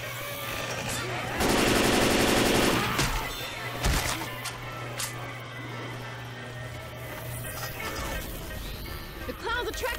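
Rapid automatic gunfire with incendiary ammo in Left 4 Dead 2 rattles in a dense, loud burst lasting about a second and a half, followed by scattered single shots and thuds, with voices talking over the action.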